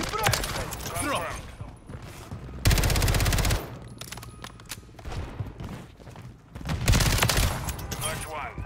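Automatic weapon fire in a Warzone match, bursts and sustained rapid shots loud in the foreground, with a heavy burst midway and another toward the end, under shouted callouts between players.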